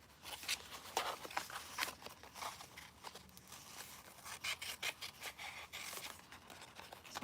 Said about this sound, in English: I'm going to try and cut this out so that then I can trim the sides to make it a square